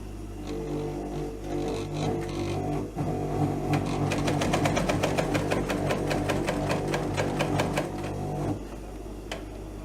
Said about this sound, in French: Et on coud à 5 mm du bord.